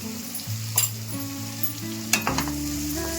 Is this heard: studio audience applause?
no